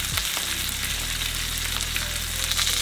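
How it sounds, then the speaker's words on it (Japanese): A T-bone steak sears over high heat in a frying pan with a loud, steady, close sizzle and crackle that runs without a break over a low background hum. "別のフライパンでね温度が上がってきたんで T ボーン焼き始めました"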